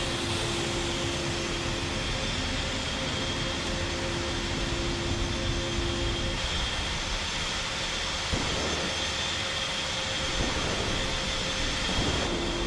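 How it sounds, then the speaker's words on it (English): Both jet engines run together in the DCS flight simulator game, a loud, constant roaring drone with a thin high whine that holds steady throughout, without speech. "both engines are up and running"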